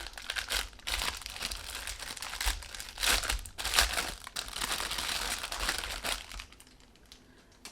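Paper envelope being handled, giving close, soft crinkling and rustling that goes on steadily with small louder crackles and no talk.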